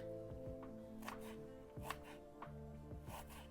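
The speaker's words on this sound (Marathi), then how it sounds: "तर आता कांदा कापीते मी" A knife chops onion on a cutting board, about eight soft, fairly evenly spaced knocks over a steady low hum, close but quiet.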